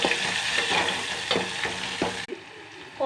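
Cumin seeds crackle and sizzle in hot oil as a tempering for lemon dal, a dense close frying hiss with rhythmic scraping stirs that briefly drops out near the end.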